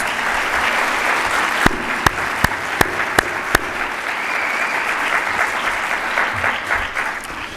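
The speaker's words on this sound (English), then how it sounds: "Please, a very big applause to our faculty members." Sustained applause from an audience at a college of medicine white coat ceremony, steady broadband clapping that holds throughout, with a few sharper individual claps standing out near the middle.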